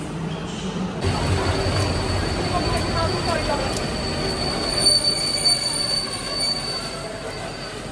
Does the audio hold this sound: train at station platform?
yes